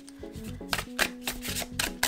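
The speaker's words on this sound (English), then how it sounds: "The handover shuffle looks like this." A tarot card deck is shuffled by the handover method, giving soft, papery slaps and rustles repeated several times in quick succession over a faint tonal background.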